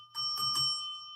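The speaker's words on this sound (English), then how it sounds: "I haven't gotten to hit the bell in a couple of days." A bell is struck twice in quick succession with a bright metallic ring, its tones sustaining and fading out cleanly, close and clear with no voices.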